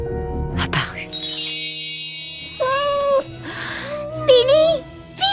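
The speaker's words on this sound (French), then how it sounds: "Et comme par enchantement, son chat Billy apparut." A cat lets out a few drawn-out meows, interleaved with chiming, tinkling magical sounds in a children's story, close and clear.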